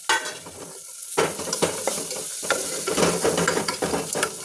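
Peas and carrots with spices are stir-fried in a pan, with a bright sizzle and scraping spatula strokes that come in irregular bursts after a brief lull, close and fairly loud.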